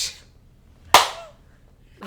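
Two people clap together once, giving a single sharp, close slap that rings briefly before fading, with short bits of voice just before and after.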